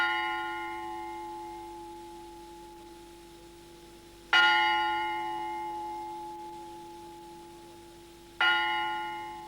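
The large old clock bell of the Bastille fortress struck twice, several seconds apart, each strike ringing out with a long humming decay, close and resonant.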